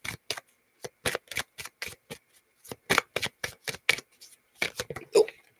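A deck of oracle cards being shuffled by hand, giving a rapid series of crisp, close riffles and slaps with short silent gaps between them, heard without speech.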